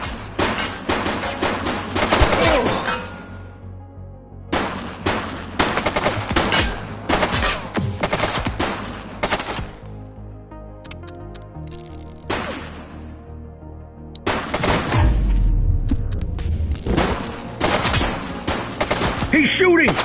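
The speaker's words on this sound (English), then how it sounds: "He's shooting!" Bursts of rapid gunfire from a police video game crackle in dense volleys, separated by brief pauses, loud and close, with voices shouting in between.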